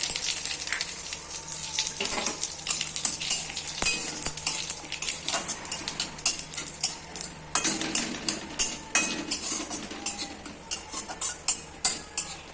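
Whole cumin and spices fry in hot oil in a wok, crackling and sizzling up close, while a utensil scrapes and stirs in repeated strokes that grow more regular toward the end.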